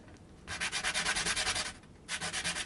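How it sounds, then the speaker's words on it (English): Small parts for a vintage Japanese Westone Thunder I guitar sanded flat at their ends, heard as two close bursts of rhythmic back-and-forth rasping strokes separated by a brief pause. "I'm going to just quickly sand flat the end of these."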